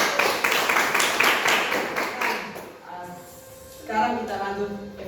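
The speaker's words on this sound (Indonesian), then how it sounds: "tepuk tangan untuk kalian semua." A class claps in a classroom, a brisk rhythmic burst of many hands that fades after a few seconds, followed by a voice speaking.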